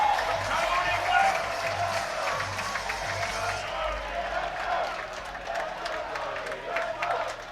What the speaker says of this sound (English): Crowd is behind him.